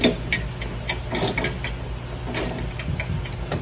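Close ratchet clicks while bolts are tightened underneath a Venom Motorsports 125cc mini jeep during assembly; quick bursts of ticking come in short repeated runs over faint background hum, with no talk.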